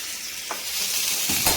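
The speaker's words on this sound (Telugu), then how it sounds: "ఇప్పుడు ఈ పోపు చారులో వేసుకుందాం" Hot oil tempering sizzles and crackles steadily as it is poured into rasam, with a couple of sharper bursts as it hits the liquid; close and fairly loud, no voices.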